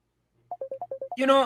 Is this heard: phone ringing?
yes